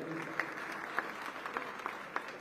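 Audience clapping at a Mumbai ceremony, a fairly quiet, steady patter of many hands with a few louder individual claps standing out, heard from a distance.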